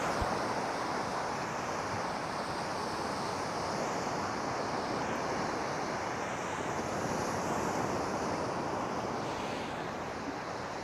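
Ocean surf on a Texas beach, a continuous broad wash of breaking waves with gusting wind buffeting the microphone, steady and fairly loud with no talking.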